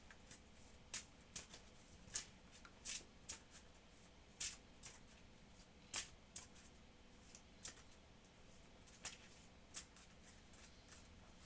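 Playing cards, including a Scheme Twist, shuffled back into the villain deck of a superhero card game: a quiet run of soft, rapid card flicks and riffles, about a dozen, spread fairly evenly, with no talk.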